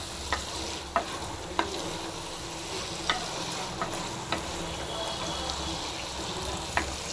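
Brinjal masala stir-fry sizzles in a pan, with a steady frying hiss and scattered sharp clicks and scrapes as a spoon stirs it, close and moderately loud, with no speech.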